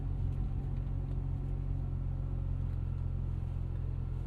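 A 2025 Lotus Emira V6 idles near at a gas pump with a steady low rumbling hum, even and unbroken.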